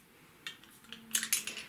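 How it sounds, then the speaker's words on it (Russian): A metal garlic press squeezes garlic cloves in a kitchen. A few close, sharp metallic clicks and clinks cluster near the end, with no talking. "Прижимаем через пресс"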